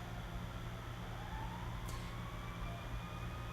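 A distant emergency vehicle siren wails faintly, a thin rising tone drifting over a constant low rumble of traffic.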